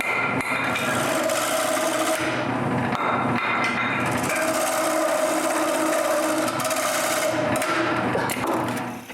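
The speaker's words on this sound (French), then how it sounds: "J'en coupe un autre, puis je tourne le bas." Wood turning on a lathe, shaping the bottom of a small wooden piece for a wooden tripod, a loud continuous scraping and whirring with chattering cuts and slight shifts in pitch, with no talk.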